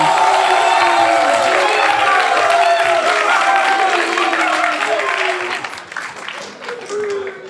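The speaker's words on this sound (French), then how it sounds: "On va te raccompagner avec un tonnerre d'applaudissements." Applause and cheering from an outdoor festival audience after a performer's act, dense and sustained at first, then thinning and fading toward the end, with whoops and children's shouts mixed in.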